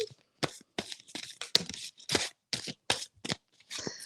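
Tarot cards being shuffled in quick bursts, a series of short riffling rushes separated by brief pauses, close and crisp.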